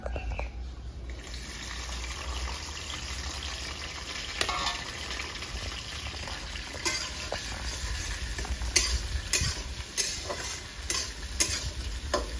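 Thickly cut onions sizzle in hot mustard oil, a steady bright crackle with scraping stirs and a few sharp ticks against the pan, continuous and close with no talking.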